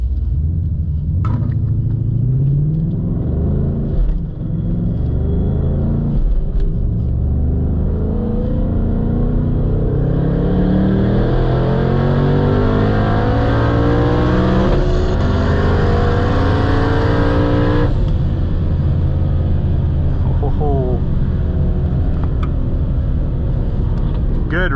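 A turbocharged stick-shift Ford Mustang drag races, its loud engine roaring and climbing through repeated rising pulls and gear changes, with brief pauses between shifts, heard from inside the car with occasional voices.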